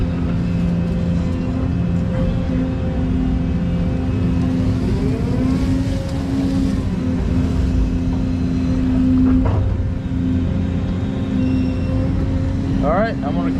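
A digging machine moves rock while cutting a spillway channel, a steady droning engine rumble with a whining hydraulic tone that rises and falls, plus occasional clanks and scrapes; someone talks over the machine noise.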